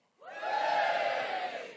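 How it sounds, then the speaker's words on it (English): A live comedy audience at an Edinburgh Fringe show erupts into a big sustained cheer and whoop, swelling quickly and holding loud as a dense crowd roar. "I want a big cheer."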